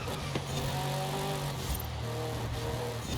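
In the racing game Forza Horizon 5, a McLaren Sabre engine holds a steady, dense drone at moderate volume, rumbling continuously without clear revving for a few seconds.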